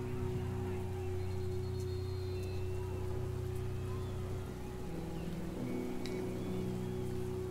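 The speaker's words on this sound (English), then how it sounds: "Starts to rain." Steady rain falls in a dramatic scene following rolling thunder, a continuous even wash lasting several seconds over a low rumbling drone.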